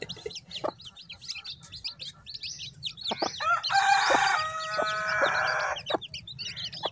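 Kadaknath rooster and Murkatti hens on a farm, with repeated short clucks and chirps building into a loud, sustained rooster crow in the middle, followed by more clucking close by.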